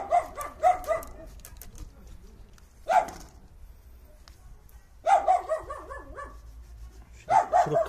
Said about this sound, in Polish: Mój pies szczeka na wszystko.